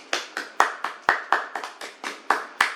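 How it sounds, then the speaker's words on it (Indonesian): About eleven evenly spaced sharp claps ring out in a steady rhythm, close and distinct, like one person or a small group clapping in a classroom, with no voices over them. "Tepuk tangan untuk kalian semua."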